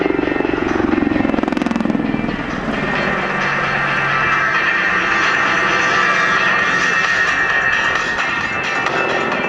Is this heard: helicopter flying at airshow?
yes